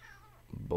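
A house cat meows briefly and close by in a home music studio next to a Nord Rack 3 synthesizer, a short rising call at the end of a quiet moment.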